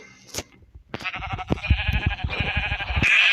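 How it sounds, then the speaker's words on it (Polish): Minecraft Pocket Edition sheep bleat several times up close, with a game-like thump and a rhythmic pattering underneath. "Owco, owco, ty głupia owco, idę po ciebie."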